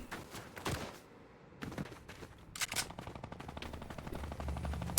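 Assault rifle gunfire in the Fortnite video game, with bursts of rapid automatic shots separated by short pauses, loud and close, followed by a long stretch of steady, evenly spaced rounds with no speech.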